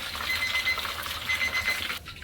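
A kitchen timer alarm rings in fast repeated electronic beeps during a batch of deep-fried chicken, steady and fairly close, then cuts off abruptly near the end.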